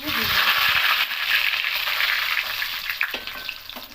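Whole garam masala (cardamom, cloves, cinnamon) and a large bay leaf sizzle loudly in hot mustard oil in a pan, a close, dense crackling hiss. A few clinks and stirring scrapes come near the end.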